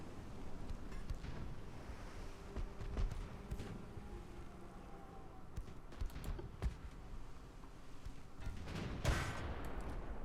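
Naval gunfire from warship guns in the Ultimate Admiral: Dreadnoughts game, with sharp reports scattered over a constant ocean and wind background and a louder blast near the end.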